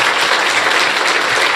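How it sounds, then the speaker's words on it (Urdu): A church congregation gives loud, dense applause for Jesus, a continuous close wash of many clapping hands with no break. "آئیں اس یسوع بادشاہ کے لیے زوردار تالیاں بجا دیجیے"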